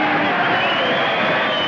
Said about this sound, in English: The crowd's yelling for the main event.